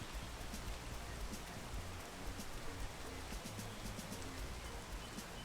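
Rain falls in a video game as a steady, faint hiss of dense drops that runs on without pause.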